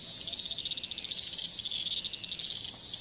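A cicada in Thailand calls in a loud, continuous buzzing drone with rapid pulsing bursts, close by and alone with no talking.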